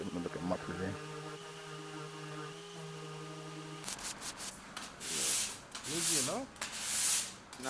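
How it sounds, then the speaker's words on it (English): Sandpaper rubs along the edge of a wooden tabletop in bursts of scratchy strokes that swell and fade after a short stretch of humming tones and faint voices, loud and close to the work. "And then after some more sanding,"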